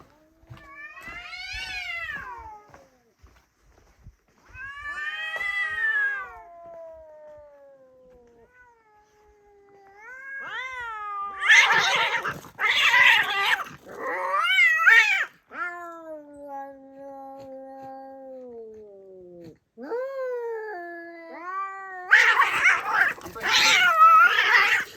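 Cats caterwaul and chase each other on a rural property, long rising and falling yowls trading back and forth with bursts of harsh hissing and spitting, loud and close with no talking.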